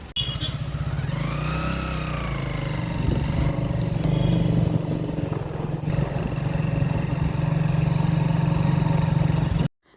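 A motorcycle engine runs steadily throughout, a continuous low rumble with a brief rising whine early on, then cuts off abruptly at the end.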